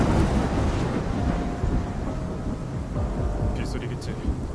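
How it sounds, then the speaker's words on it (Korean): Heavy rain hisses steadily in the Love and Deepspace game scene, with a low rumble of thunder rolling underneath and a faint tonal hum partway through. "빗소리겠지."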